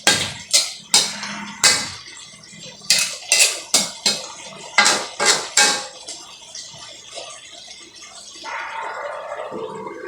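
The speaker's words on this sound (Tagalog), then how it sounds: "Tapos haluin natin guys." A metal utensil knocking and scraping against a cooking pot of pakbet, a dozen sharp clanks in an uneven rhythm, followed by a softer bubbling simmer near the end.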